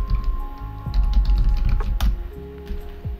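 Keys tapped on a computer keyboard while setting up a new script for a Godot C# project, an uneven run of close, crisp clicks with brief pauses.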